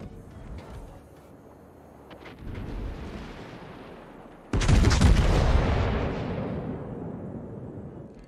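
A Bourgogne battleship in a naval video game fires a full broadside, a sudden heavy boom that rolls into a long fading rumble, preceded by a few lighter distant shots and quiet engine noise.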